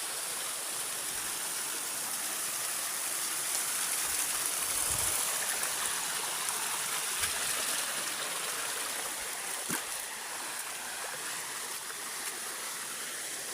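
Water in a mountain forest stream rushes and splashes in a steady broadband hiss, fairly close and continuous, with a few faint low thumps.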